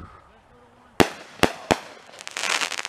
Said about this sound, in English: people are watching our fireworks show